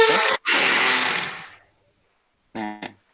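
Third door sound effect made for a horror game: a loud, dense sustained grind for about a second and a half after a brief cutoff, then silence and a shorter second burst with a clipped tail.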